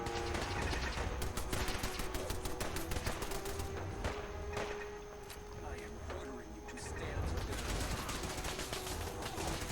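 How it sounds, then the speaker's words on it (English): Rapid automatic gunfire from an automated turret shooting at a trapper in Fallout 4, dense crackling bursts running nearly throughout at close range, with speech-like voices mixed in. "Get him, my little turret. Get him."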